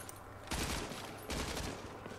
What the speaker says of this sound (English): With people shooting at us